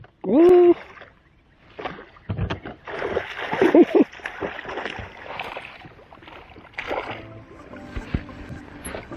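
A hooked pike thrashes and splashes at the surface while being reeled in during a fishing trip in the Netherlands, with loud splashes at the start and again around the middle, and someone talking intermittently over the water noise.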